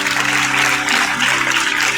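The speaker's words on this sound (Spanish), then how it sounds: "Denle un aplauso al Señor" Steady congregational applause fills a church service after the preacher calls for praise, with the clapping continuous and loud throughout and organ or keyboard tones sustained underneath.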